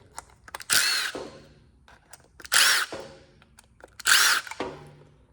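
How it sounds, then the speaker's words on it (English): A power screwdriver backs Phillips head screws out of the rear of a Kawasaki KRX 1000 / Mule Pro 4WD actuator motor: three separate loud whirring bursts about two seconds apart, close by, with quiet pauses between them. "Take the phillips head screws out of the back of it."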